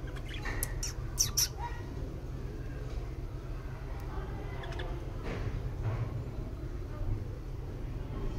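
Pet budgies chirp in brief high bursts early on, then fainter scattered calls over a steady low hum and murmuring background, with some indistinct talk nearby.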